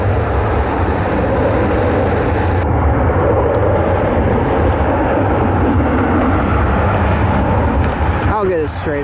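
Airliner rolling out at Cleveland airport, a loud steady low jet rumble filling the whole stretch, with a brief higher whine near the end.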